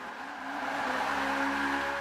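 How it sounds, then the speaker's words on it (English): Car held in a full brake stand against the rev limiter, a loud sustained high engine drone with a faint tire squeal, close and steady. "That is a full brake stand."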